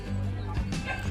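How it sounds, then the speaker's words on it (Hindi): Dog at the Kolkata zoo making a short bark-like yip over low background hum and murmur at moderate distance. "भाई साहब यहाँ देखते कुत्ता भी है।"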